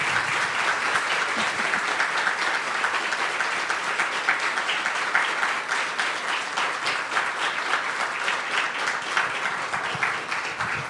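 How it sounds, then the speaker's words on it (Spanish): Audience at a literary and journalism talk giving warm applause, a dense, continuous wash of many hands clapping at steady volume throughout, with no voices over it. "Le pido al público un caluroso aplauso para doña Julia Navarro"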